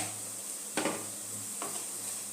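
Spice paste for an egg and potato curry sizzles as it fries in a pan, with two quick scraping stirs over a low, steady frying hiss.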